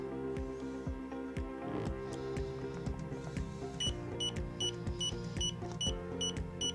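Beeps from a YOUNGDO digital laser tape measure, a string of short, faint, evenly repeated high tones over a low background hum, with no talking.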